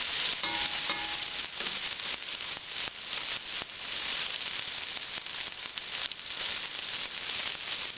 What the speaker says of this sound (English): You want to reduce this until it's almost a tomato paste